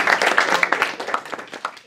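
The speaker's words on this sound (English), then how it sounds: "Round of applause." Brief, brisk applause from a lecture audience, close and lively at first, then thinning out over two seconds.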